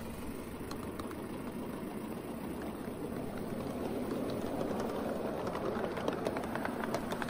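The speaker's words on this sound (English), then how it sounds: "When at speed, it sounds more like a gasoline engine than a steam engine." A live steam miniature train locomotive runs along the track at a live steamers' park, a faint, steady chugging engine-like drone with light mechanical clatter, heard from aboard the train with no talk.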